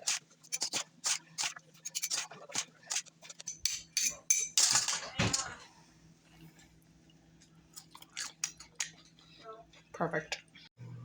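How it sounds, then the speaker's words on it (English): A fork and spoon toss salad with oil and vinegar in a small bowl, making irregular clinks and scraping rattles against the bowl that cluster in bursts and then pause, with a person talking over parts of it. "Grab yourself a fork and a spoon or 2 spoons and start mixing the salad up to get the oil and vinegar mixed in"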